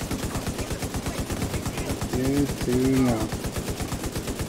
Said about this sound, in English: His ammo bag's exploding.